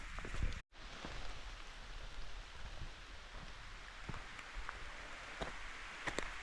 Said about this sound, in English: Well, it's still raining,